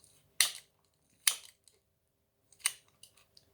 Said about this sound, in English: I'm going to continue my cooking with scissors by adding some cooked chicken on here